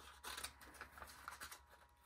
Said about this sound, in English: and let me get my scissors.